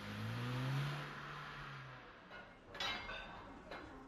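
A car engine revs and pulls away, fading into the distance, followed by faint clinking in the background.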